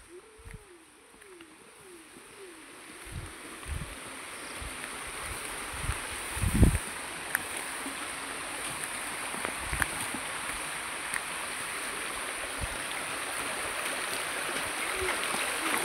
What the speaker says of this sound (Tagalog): Oh, laki-laki pa ng sapa.